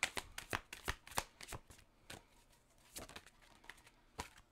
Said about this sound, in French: Puis on va aller chercher 2 autres cartes.